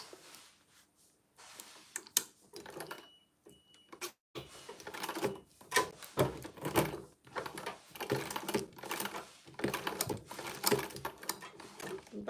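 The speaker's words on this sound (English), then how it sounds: "Now I'm just going to sew on it." Sewing machine stitching fabric for a customer order, heard as a series of close, uneven bursts of rapid needle clatter separated by brief pauses.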